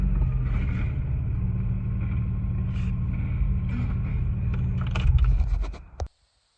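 A car engine fitted with a single exhaust and dual mufflers idles with a steady low rumble, close and fairly loud and alone, before a brief clunk as it cuts off and falls silent near the end.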